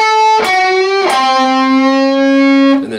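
A distorted electric guitar plays a sustained note in the style of a TV theme, with picked attacks and a half-step bend that shifts the pitch, ringing loud and bright for about three seconds.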